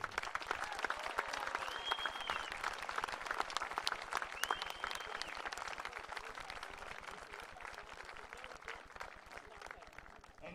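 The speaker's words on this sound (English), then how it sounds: "let's give a round of applause for Shenandoah University." A crowd at a college baseball championship game applauds with steady, moderately distant clapping that continues throughout, with faint voices mixed in.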